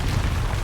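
A Confringo fire-explosion spell in the game Hogwarts Legacy: a short, loud, dense rumbling blast with heavy low-end boom lasting under a second.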